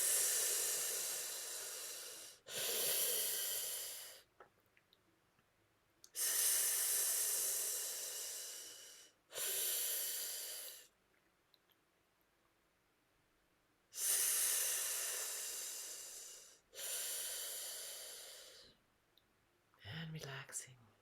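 Deep breaths drawn in during a breathing exercise: long, loud, airy inhales that come one after another, each lasting a couple of seconds, with short quiet gaps between them.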